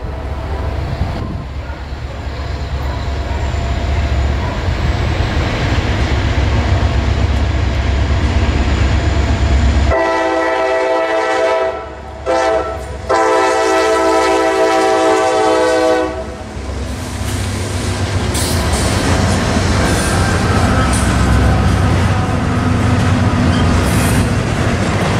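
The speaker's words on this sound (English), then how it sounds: "NS Train 211, the hotshot pig train out of Croxton, New Jersey, enters its termination point in Atlanta as they fix to pass me at McCaslin" A Norfolk Southern hotshot intermodal freight, Train 211, led by an SD40E, passes close in Atlanta. A loud, steady rumble and rail clatter run throughout, and the multi-note air horn blasts midway, briefly broken.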